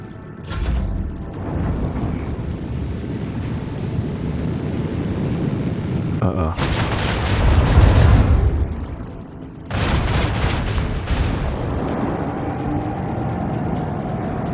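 In Warhammer 40,000: Rogue Trader, a torpedo launches and detonates against a constant windy rumble, landing as two heavy, booming bursts, each a dense roaring blast lasting a few seconds, the later one followed by a sustained thundering wash.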